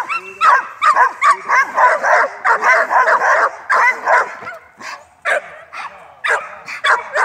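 A young dog in a puppy training session barks in repeated bursts while doing defensive bite work, close and loud, with short yips and whimpers between barks and faint voices in the background.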